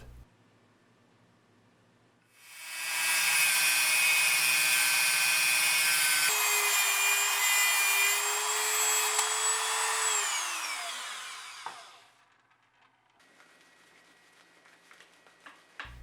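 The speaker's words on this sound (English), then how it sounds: "The bolts are too long, so I have to cut them to fit." A power tool cuts through overly long bolts for a bicycle disc brake adapter with a loud, steady high-pitched whine lasting about ten seconds, which then winds down and stops, leaving quiet room noise.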